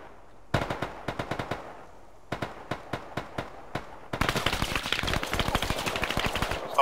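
Gunfire in the Arma 3 video game during a team-versus-team event: short rhythmic bursts of sharp shots, then a denser, rapid volley of overlapping automatic fire, loud and close.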